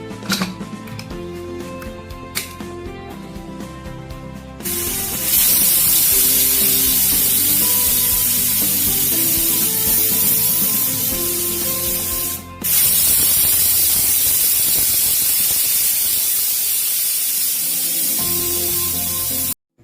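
A pressure cooker holding mutton sends out a loud, steady jet of hissing steam that runs for several seconds, breaks off briefly, then resumes strongly before cutting out, with some kitchen hum beneath at the start.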